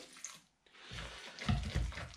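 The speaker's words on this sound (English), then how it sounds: "So I think we can just add a tiny bit more water" Water pours and splashes into a bowl of black pudding (blood sausage) mixture in short bursts, close by, with soft mixing and handling noises around it.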